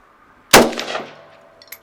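A single loud gunshot at an indoor shooting range in Prague, fired at a can, with a sharp crack and ringing decay, then a faint metallic tick shortly after.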